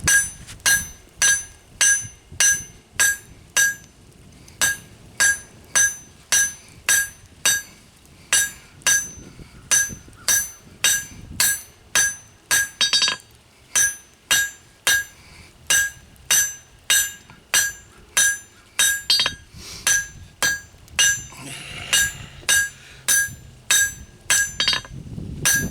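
Hammer blows on hot metal as a spoon is forged at a shallow fire pot, a long, loud, evenly spaced series of ringing clinks on the anvil, about two strikes per second, with no talking.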